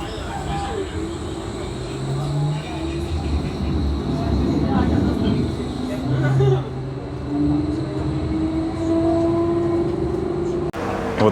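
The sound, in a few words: tram riding through city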